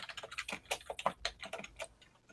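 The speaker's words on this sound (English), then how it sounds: "I hear keyboards typing now." Rapid typing on a computer keyboard, a quick irregular run of crisp key clicks, close and fairly quiet with no talk.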